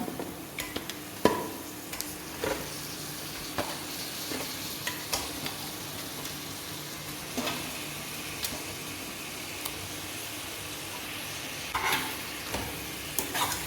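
Raw mutton is stirred into spice masala in a pan for mutton gongura, with soft scraping strokes and a faint sizzle that stay quiet and close, alongside occasional sharper clicks of the spoon.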